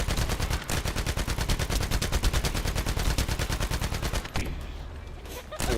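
Rapid automatic gunfire in the shooter video game The First Descendant, a loud continuous burst of fast, evenly spaced shots that stops briefly and then resumes.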